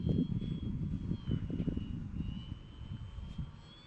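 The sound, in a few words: model airplane flying overhead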